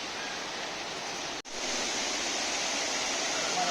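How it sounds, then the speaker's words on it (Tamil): Abbi Falls in Coorg roars as a steady, dense broadband rush of falling water, loud and continuous, with one brief dip partway through before the roar resumes unbroken. "கிட்ட போக அந்த ஃபால்ஸோட சவுண்ட் பாருங்க எவ்வளவு அப்படியே இன்க்ரீஸ் ஆகிட்டே வருது"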